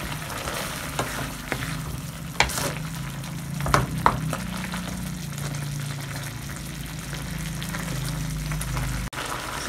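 Beef with garlic and onion sautéing in a pan, a steady loud sizzle with occasional stirring clatter, continuous and close throughout with no talk.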